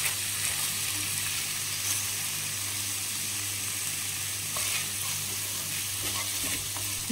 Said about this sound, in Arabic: نزيد الجلبان والزروديه اي الجزر، نحرك المكونات